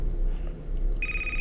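A steady electronic telephone ring from the game Bunny Wants to Play starts partway through, a bright sustained tone over a low rumbling background.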